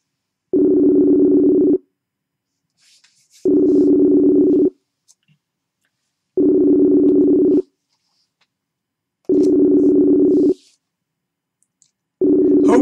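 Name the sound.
phone call ringing tone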